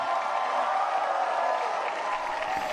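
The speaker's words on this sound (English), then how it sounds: "One more big cheer for Pope Francis" A large outdoor crowd cheers for Pope Francis during his visit to Singapore, a steady, dense roar of many voices sustained throughout without any single voice standing out.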